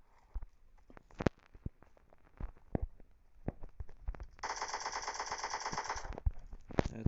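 AKM assault rifle fire in the mobile shooter PUBG Mobile Lite: scattered single shots, then a dense sustained burst of automatic fire, loud and close, with no talk over it.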